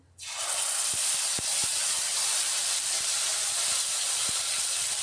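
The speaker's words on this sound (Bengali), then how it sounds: "এখানে পেস্ট করে রাখা টমেটোটা দিয়ে দিলাম" Tomato paste hits a hot pan and breaks into a loud, steady sizzle that starts abruptly and holds at an even hiss, with a few faint clicks of a utensil underneath.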